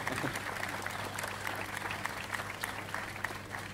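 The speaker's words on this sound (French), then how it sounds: "vous pouvez l'applaudir" An audience at a photography trade show applauds, a modest group clapping with distinct individual hand claps over a low background hum, fairly faint and steady.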